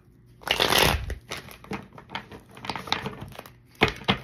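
Tarot cards are shuffled close up: a loud riffle burst, then a run of softer irregular card flicks and taps, ending with a couple of sharp snaps.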